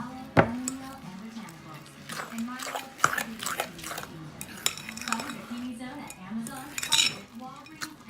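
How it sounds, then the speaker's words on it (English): Oat muffin batter with peanut butter and banana is stirred in a bowl, giving repeated clinks and scrapes of a utensil against the bowl under a person talking. "And then you just mix all your ingredients together."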